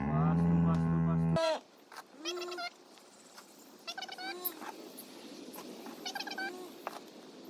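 Cows on a farm lowing in a pasture on a Sunday morning, several separate moos spread out and fairly distant, following a loud steady mechanical hum that cuts off abruptly.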